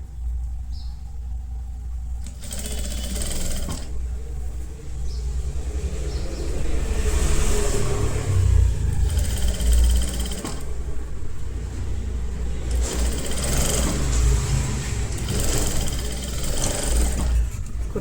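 A sewing machine stitches an A-line kurti in a steady, close mechanical whir with a low rumble, running in several bursts with short pauses between them.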